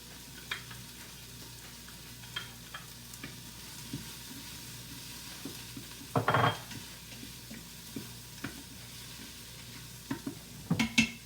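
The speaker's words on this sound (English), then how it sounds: "I'll add my garlic now. And again, I'm going to stand over this pot and stir it" Garlic sautes in a pot while a spoon stirs it, a gentle steady sizzle broken by scraping and clattering utensil knocks against the pot, loudest near the middle and end, with no voices.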